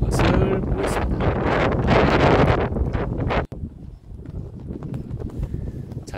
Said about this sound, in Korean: 바람 소리를 듣고 있습니다